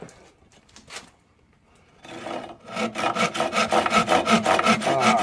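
An old, thin handsaw cuts through wood. A few quiet strokes come first, then a steady run of loud, close, rhythmic rasping strokes, with no talking.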